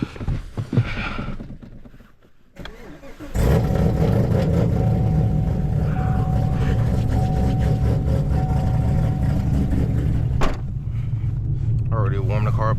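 An 850hp supercharged Chevrolet Camaro ZL1 starts in freezing cold near 0°F. A brief crank catches into a loud, steady idle that holds for nearly ten seconds, following a quieter stretch.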